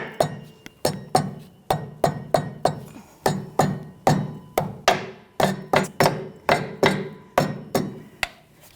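Roughly twenty sharp, evenly spaced hammer blows with a metallic clink ring out close by as a leveling kit part is driven into place on a 1997-2006 Jeep Wrangler, with no talking.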